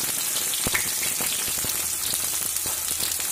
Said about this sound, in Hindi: प्याज और हरी मिर्ची जो है वो धीरे धीरे ब्राउन हो रही है